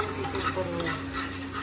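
Spice tempering for desi-style Maggi noodles sizzles steadily in hot oil in a pan as it is stirred, a close, continuous frying hiss with soft scraping and no talk.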